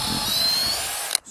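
A Metabo SB18 LTX BL cordless drill at speed 2 bores straight down into a piece of wood, a steady close whine that stops abruptly at the end.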